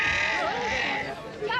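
Lleyn sheep bleat at an agricultural show in Tullamore, a loud nearby bleat mixed with crowd chatter and talk, the pen noise steady throughout.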